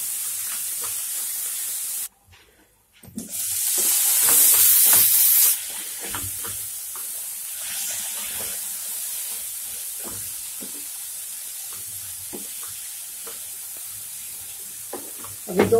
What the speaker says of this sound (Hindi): अब इसको भूनेंगे 4-5 मिनट तक, सब्जियां गलने तक।